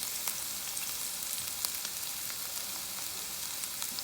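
Chopped jalapeño and onions fry in a pan with a dense, continuous sizzle and crackle, close and even, with no voices.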